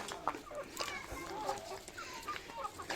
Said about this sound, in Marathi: हे कोंबड्यांचं खुराड आहे हे कुक्कुटपालन करतात हे बघा किती कोंबड्या आहेत बघा